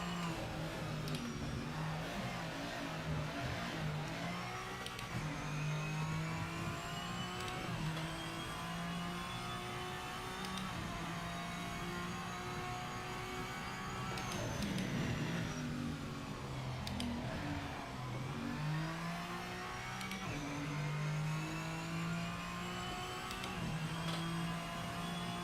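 N-GT race car in Project Motor Racing on the Nürburgring at night, its engine droning loud and continuous throughout with rising and falling revs through gear changes, no talking over it.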